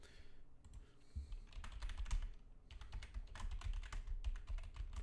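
Rapid, uneven typing on a computer keyboard, a steady patter of close key clicks in two bursts separated by a brief pause, with no voices.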